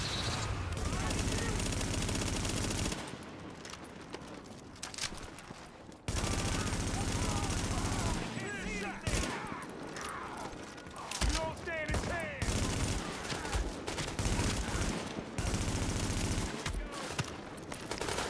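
Bursts of automatic gunfire and rapid shots in the video game The Division, set on a New York street, loud and dense, with brief lulls and a voice talking over parts of it.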